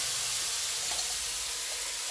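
A spice paste of turmeric, salt and cumin is poured into a hot pan, producing a loud, steady, close sizzle that hisses evenly throughout.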